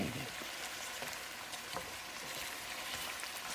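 Artichokes sautéing in a pan over high heat, a soft steady sizzle with faint scattered crackles and light stirring clicks, fairly quiet and without talk.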